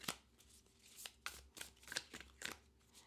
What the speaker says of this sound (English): it has a nice shuffle sound